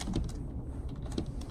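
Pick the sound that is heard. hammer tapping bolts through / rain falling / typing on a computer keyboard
typing on a computer keyboard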